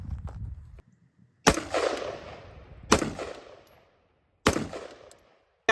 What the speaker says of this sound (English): We're going to take 3 shots to confirm zero